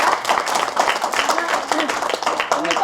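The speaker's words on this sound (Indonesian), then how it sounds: "Tepuk tangan dulu" Audience clapping at a Herbalife motivational seminar in Indonesia, a dense, steady patter of many hands filling the room, loud and continuous with some voices mixed in.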